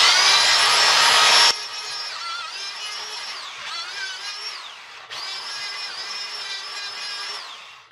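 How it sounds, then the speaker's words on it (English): Power tool wire wheel stripping plasti dip from a painted car rim, a loud continuous high whine that shifts pitch as the wheel bites, briefly dropping and restarting midway. "Wire wheel to get the plasti dip out works great."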